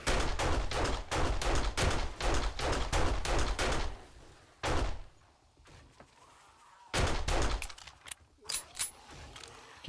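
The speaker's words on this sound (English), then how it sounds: "So either you can shoot them, like I'm doing now" Rapid bursts of gunfire from shooting zombies in the survival game 7 Days to Die, several quick volleys of close, loud shots with short pauses between them.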